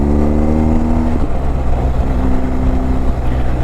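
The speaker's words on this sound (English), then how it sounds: "This bike is fitted with the aftermarket exhaust, so it's making some pretty sounds for me" A BMW R 1250 GS motorcycle with an aftermarket exhaust and quick shifter roars loudly up close, its pitch climbing through the gears with a brief shift break, a deep throaty exhaust tone throughout.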